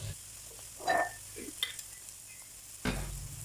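Eggplant filling for vegan dumplings stir-fried in a pan with green onion, soft sizzle beneath a few distinct spatula scrapes and clinks, then a louder burst of frying toward the end.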